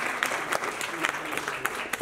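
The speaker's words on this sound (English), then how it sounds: "Can we give them a round of applause one time?" A college event audience claps for a short stretch, moderately loud, with scattered individual claps standing out and some faint voices in the background.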